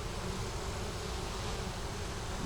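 Honeybees in a hive that swarmed and had gone unchecked for a while hum in a steady, dense drone from close by, continuous and unbroken from start to finish with no talking.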